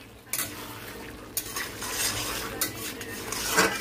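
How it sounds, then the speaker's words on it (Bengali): Potato and pointed gourd mustard curry being stirred in a pan, with scraping utensil strokes and clinks against the metal over a soft sizzle, close and fairly loud, no voices. "এবার নেড়ে দেবো।"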